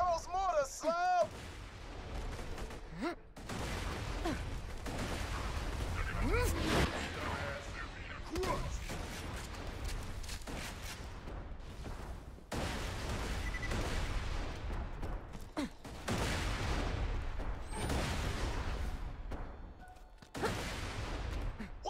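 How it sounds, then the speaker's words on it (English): Mortar fire in Borderlands 2, with repeated heavy booms and gunfire-like blasts running through a dense game battle, while voices talk over the din. "Watch out for the mortar"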